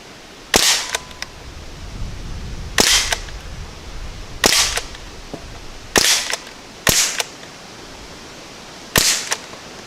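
Umarex Ruger 10/22 and Crosman 1077 air guns fire at cans outdoors, six sharp, close cracks spaced irregularly over about nine seconds, each with a brief metallic ping, with no talking.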